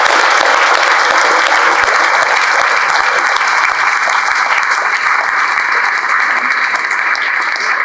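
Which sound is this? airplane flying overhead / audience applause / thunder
audience applause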